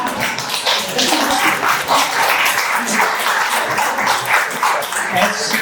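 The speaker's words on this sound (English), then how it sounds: "Patrick, you can applaud if you like." Audience applause at an awards ceremony, a steady dense patter of many hands clapping continuously throughout, fairly loud and even, with no clear voice over it.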